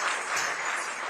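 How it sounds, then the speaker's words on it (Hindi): Audience in Portugal applauding performers after a theatrical dance show, a dense, sustained wash of clapping from a crowd at steady volume. "पुर्तगाल के लोगों ने देर तक ताली बजाकर कलाकारों का उत्साहवर्धन किया।"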